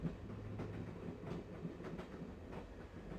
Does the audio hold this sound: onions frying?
no